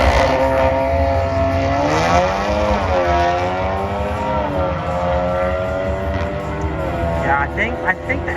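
An Audi and a VW Mk7 racing at a Euro car show, their engines revving hard with rising and falling pitch, loud and close throughout, with fainter crowd noise underneath.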